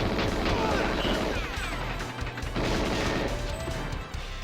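Video game gunfire crackles in rapid bursts with crashing impacts, loud and dense throughout, mixed with game effects and a little talk.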